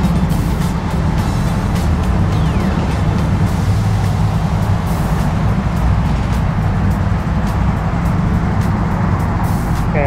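A VW bus being driven, its engine giving a steady, loud low drone and rumble with road noise, heard continuously from close by with no talk.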